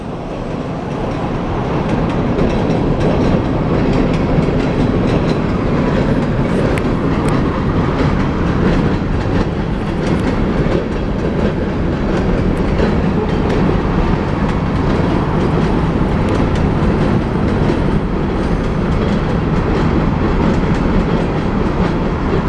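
A 100-car corn and grain freight train rolls steadily past a gas station in eastern Idaho, its continuous loud rumble and wheel clatter holding for the whole stretch without pause.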